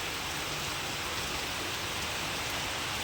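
Very heavy rain pouring down during a downpour, a dense, steady broadband roar that stays uniform and unbroken for the whole stretch, with no voices over it.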